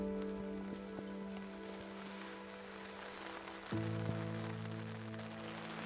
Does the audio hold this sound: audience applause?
no